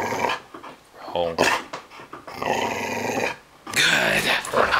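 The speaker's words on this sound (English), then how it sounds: "you can see she knows the difference between bark and growl" A trained dog growls on command in bursts of rough, close rumbling mixed with panting and whimpering, with a person's voice heard at times.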